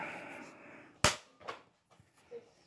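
A HUBEN K1 air rifle fires JSB 18 grain pellets at a 50-yard target, one sharp, loud report standing out, followed by fainter pops and a soft impact or two against a quiet outdoor background.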